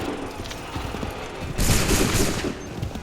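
Musket volley from a line of soldiers in the Assassin's Creed 3 game, a sudden dense crackling burst of overlapping shots that swells and fades over about a second, set against quiet battlefield ambience.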